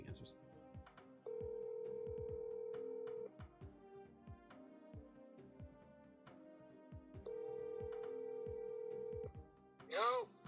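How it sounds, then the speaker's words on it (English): An outgoing phone call rings out, two long steady ringback tones separated by a pause, faint in the background while people talk over them, ending with a brief chirp. "I'll give him one more call. See if he answers."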